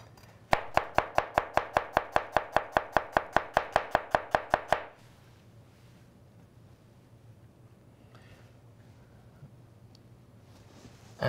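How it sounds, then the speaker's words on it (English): Rapid, steady knife chopping of red onion or shallot on a board, about twenty close, sharp, evenly spaced cuts over several seconds, then the chopping stops and only quiet room tone remains. "I can chop it coarsely. A little piece of red onion or shallots"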